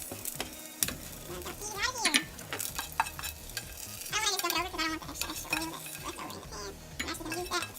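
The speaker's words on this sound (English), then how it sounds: "Sauteed onions and peppers." Onions and peppers sauté in a pan, sizzling under repeated scraping and clinking of a utensil against the cookware, close and moderately loud, with faint kitchen clatter and no talk.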